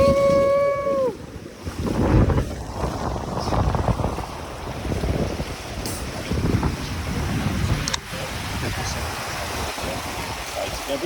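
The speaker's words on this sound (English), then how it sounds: "You can hear the nice peaceful waves crashing." Ocean surf on the beach at Tenby, Wales rolls and washes in a continuous broad roar, close by, with heavy wind buffeting the microphone and a brief tonal sound at the start.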